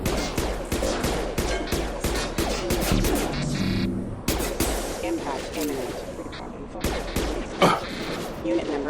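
Heavy gunfire from a Mass Effect 2 firefight against Fenris mechs, loud rapid bursts of shots hammering almost continuously with crashes and impacts, while voices shout over the battle.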